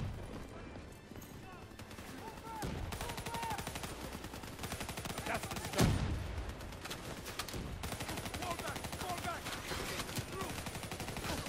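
Rapid gunfire from Call of Duty: Black Ops 3 crackles in dense bursts throughout, with a sharp louder shot near the middle, as someone talks over the shooting.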